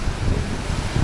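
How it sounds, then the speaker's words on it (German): Ocean waves and strong wind roar on the open side of the sea near Isla Mujeres, heard from a boat, with heavy wind buffeting the microphone and a constant broad wash of surf; no voices. "Hier am Ozean angekommen, meine lieben Freunde."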